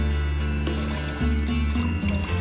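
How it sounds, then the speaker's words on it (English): Water from a simple hand-pumped water system in a camper van build flows and splashes steadily into a container, a continuous close liquid pouring sound with slight surges throughout. "just those few pumps gave us this much water"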